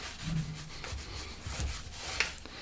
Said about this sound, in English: And basically, you're gonna use this just like the hot iron cleaners. And you can see I'm just rubbing.